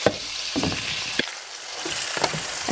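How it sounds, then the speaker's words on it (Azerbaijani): Finely chopped chicken fillet and potatoes fry with spices in a pan, making a continuous sizzle broken by several sharp clicks and scrapes of stirring, close by and with no voices. "Biraz kartoflar da qızarsın."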